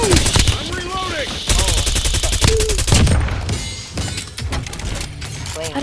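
Heavy Warzone game gunfire, with rapid automatic bursts, single sharp shots and breaking impacts, loud and close as a player's voice calls out over the fight.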